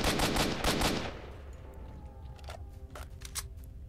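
Gunfire in the shooter game STALKER, a loud burst of rapid automatic shots followed by scattered single cracks further off over a low background drone.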